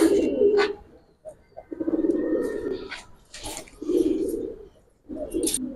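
Giribaz pigeons coo in repeated low throaty bursts, close and fairly loud, with short pauses between calls and no talking.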